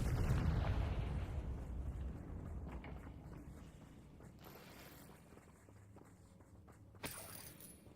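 A Confringo fire spell explosion in the video game Hogwarts Legacy, a loud low boom that slowly rumbles away, followed by a brief sharp burst near the end.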